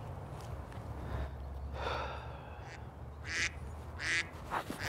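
Mallard duck quacking during a duck hunt, several short nasal calls in a loose sequence over low background rumble, moderately near and fairly faint.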